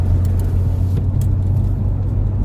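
Loud, continuous rumble of freeway traffic on a Sunday, cars passing close with a steady low roar and no pauses.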